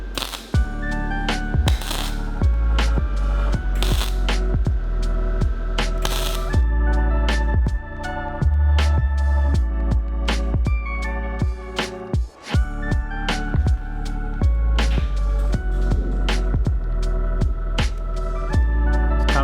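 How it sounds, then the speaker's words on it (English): MIG-style welding on rust repair of a 60 Series Landcruiser body, a continuous loud crackling buzz with short sharp pops and brief breaks between runs, heard up close. "now I'm going to weld that up, not all in one because it'll just get too hot"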